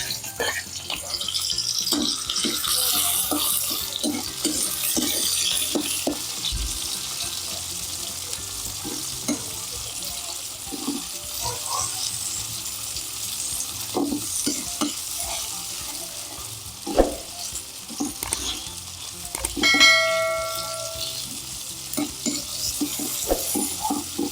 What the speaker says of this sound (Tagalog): Kasunod ko na po ang kamatis.